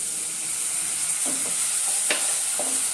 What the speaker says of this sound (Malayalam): കുറച്ച് സോയാ സോസ് ഒഴിച്ചു കൊടുക്കാം.